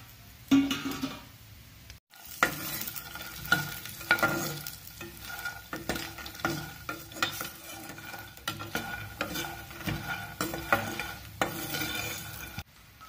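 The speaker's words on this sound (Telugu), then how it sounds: "ఈ ఆయిల్లో మనం ఇప్పుడు ఫూల్ మకాన్ ఫ్రై చేసుకోవాలి." Phool makhana (fox nuts) fry in oil in a pan with a soft steady sizzle, while a utensil stirs and scrapes repeatedly close by.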